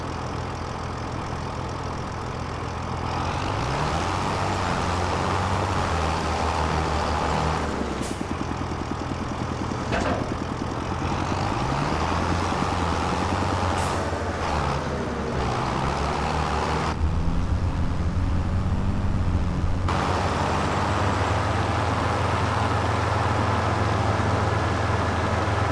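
A farm vehicle in Farming Simulator 25 drives along, its engine a continuous loud low drone with gear and speed shifts rising and falling throughout, heard alone with no talk.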